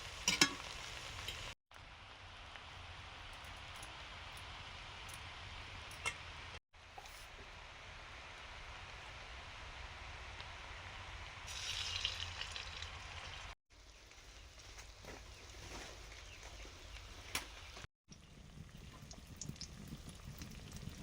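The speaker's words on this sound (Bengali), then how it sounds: "আর একটু হালকা আঁচে ভেজে নিচ্ছি" Mixed chowmein frying over low heat in a pan, giving a steady, moderate crackling sizzle that runs throughout with a few brief silent breaks and no talking.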